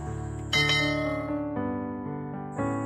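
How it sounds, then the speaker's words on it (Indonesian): A notification bell sound effect rings in bright, layered chimes, with a louder strike about halfway in and another near the end, sustained tones ringing between them, clear and alone. "Nyalakan juga lonceng notifikasi supaya kalian tidak ketinggalan dengan video-video terbaru dari saya."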